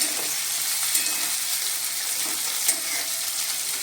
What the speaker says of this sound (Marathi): मी आता त्याच्यामध्ये टाकते एक टॉमॅटो कापलेला आहे तो मिक्स करूया